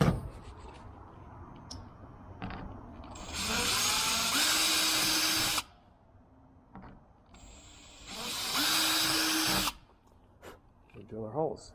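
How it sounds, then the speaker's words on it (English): Power drill boring holes through wood on a line during a Minimax 1100r wooden aircraft build, heard as two sustained whining bursts of several seconds each with a short pause between, with light talk before and after. "Drill our holes."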